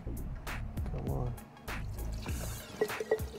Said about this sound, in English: Let's dump the oil from the bottom end and let's see what that looks like.